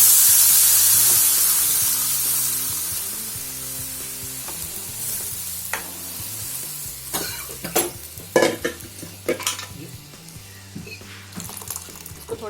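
A loud sizzle hisses as a hot tempering of oil and mustard seeds is poured onto dal, fading over several seconds, followed by clinks and stirring sounds, with music playing underneath.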